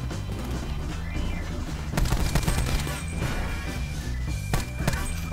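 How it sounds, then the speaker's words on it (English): Gunfire in Call of Duty Black Ops 4, bursts of shots and impacts crackling over a busy game soundscape, growing louder midway with sharp cracks near the end. "He's firing at me."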